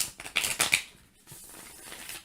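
Tarot cards being shuffled by hand, a quick run of crisp papery riffles and flicks up close, fading into softer rustling; no speech.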